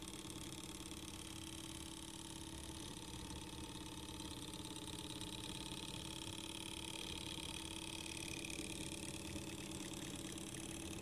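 A small homemade Stirling engine with a lengthened piston stroke runs on a table, making a steady, faint mechanical hum and whir that stays even and unbroken from start to finish.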